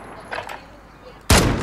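A shot from a first-person shooter game, Apex Legends or Call of Duty, cracks loudly and abruptly after a stretch of quieter game sounds and faint voice, ringing briefly to the end.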